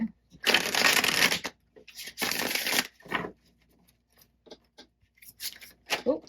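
Tarot cards are shuffled in two loud riffling bursts close to the microphone, followed by softer taps and shuffles, with a person talking briefly at the end.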